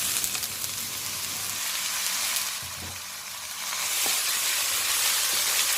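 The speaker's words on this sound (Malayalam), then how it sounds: "എല്ലാം കൂടി ഇളക്കി യോജിപ്പിച്ച് മൂടി വെച്ച് വേവിക്കാം." Chopped banana flower with ground spices sizzles and hisses in a hot pan while being stirred, with a few soft utensil scrapes and a steady frying crackle that grows louder toward the end. No one speaks.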